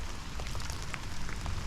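Heavy rain pours down during bream fishing on a lake, a faint, steady broadband hiss with scattered drop patter, and no one speaks.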